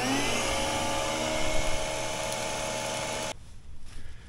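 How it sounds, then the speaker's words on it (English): A shop vacuum roars steadily while pulling mule tape through underground conduit for a power company hookup, then cuts off abruptly near the end, leaving quiet rustling. "I'm gonna go ahead and kick the vacuum on"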